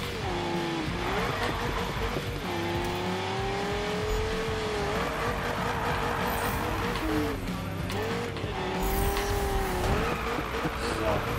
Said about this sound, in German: je schneller ich fahre, desto geiler ist der Drift